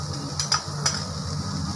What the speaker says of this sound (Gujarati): બરાબર રીતે મિક્સ કરી દઈએ